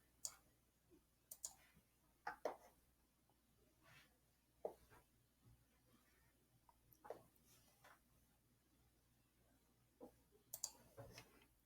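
Sparse, quiet computer mouse clicks, single and double, spaced irregularly while someone browses an electronic book's table of contents in a library database, with no talk over them.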